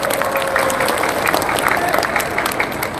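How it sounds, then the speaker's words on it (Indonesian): Steady, dense clapping from a large crowd at an Indonesian political gathering of change supporters, honoring the coordinators, with a loudspeaker voice faintly present beneath the continuous applause. "Berikan tepuk tangan yang meriah pada para koordinator."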